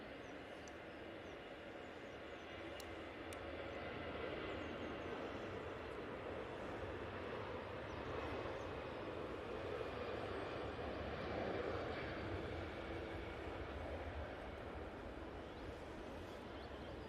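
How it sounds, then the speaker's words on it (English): easyJet Airbus A320 on its takeoff roll at Manchester Airport, bound for Bordeaux, a distant low engine rumble that swells gently and holds, faint and continuous. "Easyjet on the roll to Bordeaux."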